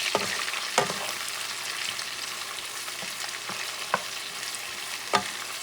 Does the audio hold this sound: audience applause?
no